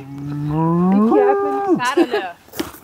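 A cow gives a loud, close, drawn-out moo that rises in pitch and holds, outdoors on a hiking trail near a hill and castle, followed by a shorter grunt and rustling.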